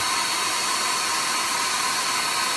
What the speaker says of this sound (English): So I'm bringing the hair dryer back in again.